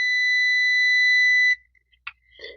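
A multimeter's continuity buzzer sounds while probing pins on an LED TV board: a steady, loud beep holds for about a second and a half, then stops, followed by a few short, quieter chirps.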